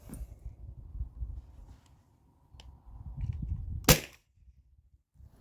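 A Byrna launcher fires a single sharp, loud crack, with faint handling noise before and after it, during a chronograph test of less-lethal launchers.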